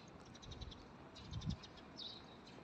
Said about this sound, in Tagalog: Nag-tweet-tweet sila.